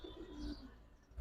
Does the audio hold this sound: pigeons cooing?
yes